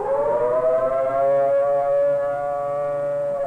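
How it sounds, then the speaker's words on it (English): A civil defense siren sounds a steady, slowly wavering attack warning tone, loud and sustained without a break. "The attack warning signal is a 3 to 5 minute wavering sound on"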